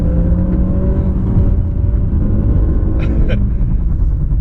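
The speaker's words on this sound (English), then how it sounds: "I was braking and then it downshifts." A 2019 Mazda 6 with the SkyActiv-G 2.0 petrol engine downshifting under braking, heard from inside the cabin. A steady engine drone and road rumble fill the clip, with a brief rise and shift in tone near the end, under talk.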